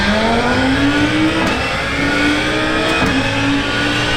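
An Audi race car engine in a racing simulator video game revs hard and continuously, its pitch climbing steadily through two quick gear shifts, loud and unbroken.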